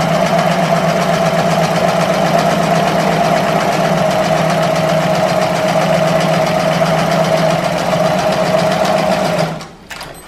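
A home sewing machine runs fast and steady at its longest stitch length, sewing gathering stitches through fabric in one continuous whirring buzz, close by. It stops abruptly near the end with a few small clicks.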